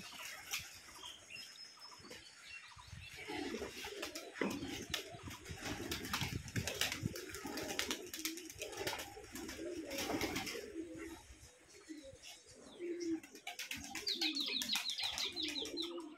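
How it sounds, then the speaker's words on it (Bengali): Pigeons from a farm of about a hundred pairs are let go one at a time, with soft cooing and bursts of wingbeats repeating nearby over a steady background. "কবুতরকে একে একে ছাড়া হচ্ছে।"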